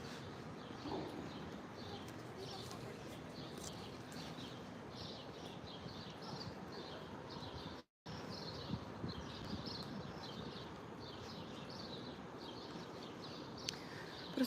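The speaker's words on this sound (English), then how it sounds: "something about the sound of birds." Birds sing and doves coo softly in the distance on a quiet early-morning walk, a faint steady chorus of chirps and calls over a low background hum.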